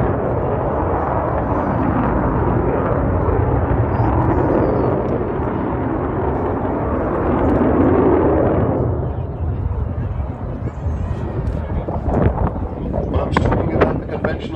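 Avro Vulcan bomber flying past at the 2015 Throckmorton Air Show, a loud, sustained roaring rumble with wind buffeting that fades after several seconds into crowd noise and crackling.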